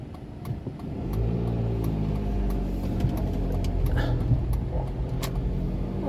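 A car driving on a snowy road tows a trailer loaded with biomass. Its engine is a steady, fairly close drone that rises slightly as it accelerates, with road rumble underneath and no talking.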